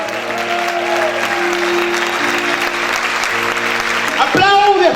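A church congregation breaks into sustained, fairly loud applause that continues beneath sustained tones and musical sounds, rising toward the end.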